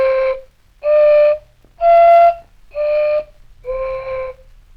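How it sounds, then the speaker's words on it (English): Five breathy hooting notes blown across the mouths of water-filled pop bottles, each about half a second long with short gaps, pitches shifting slightly from note to note. "blowing into an empty pop bottle"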